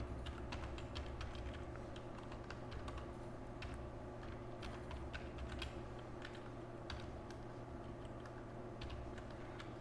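Computer keyboard typing while coding JavaScript: quick irregular bursts of key clicks over a steady low hum, faint and close, with no talking.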